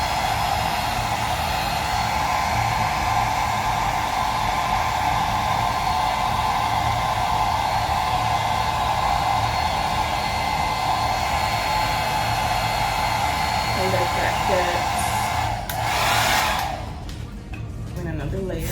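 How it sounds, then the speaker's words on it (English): Steady, loud whooshing roar of a handheld blow dryer drying a closure hair wig up close, running continuously before the airflow cuts off near the end. "Now I'm just gonna take my blow dryer."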